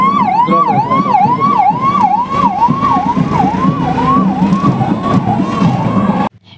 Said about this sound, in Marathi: सामान्य रुग्णालयाची रुग्णवाहिका काम करते.